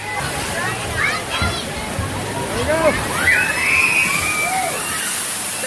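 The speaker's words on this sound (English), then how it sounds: "Point of view of getting splashed" Water sloshes and splashes at a water park attraction at Hurricane Harbor Phoenix, arriving in surging waves of spray at close range, with a voice speaking briefly and excited shrieks and calls from people nearby.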